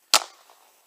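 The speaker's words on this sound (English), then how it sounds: "I've never shot dual-handed like that." A single sharp gunshot from a handgun in a VR shooting game, one loud close crack near the start that decays into a short reverb tail.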